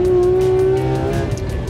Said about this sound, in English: This GT3 RS, one of the fastest street cars ever made.